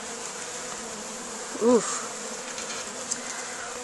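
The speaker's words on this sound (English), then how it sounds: "there are always going to be a lot of bees around it" Honeybees buzz around an opened hive during a first hive inspection, a steady close hum with one bee droning loudly past the listener midway, and a person briefly exclaims.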